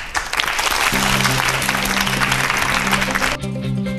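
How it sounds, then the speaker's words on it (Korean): Audience applause welcoming a lecturer at a Korean TV lecture hall, dense clapping for about three and a half seconds over a sustained tone, then cutting off abruptly. "힘찬 박수로 강연 청해 듣겠습니다"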